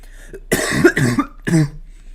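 Several harsh coughs in quick bursts, a cluster then one more after a short pause, close and loud.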